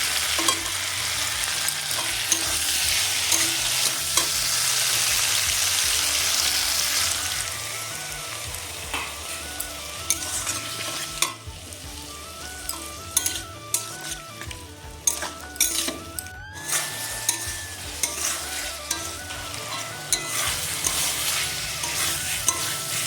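Ground cumin paste and tomato frying in a pan, a loud continuous sizzle with repeated stirring and scraping of a utensil against metal, no voices over it.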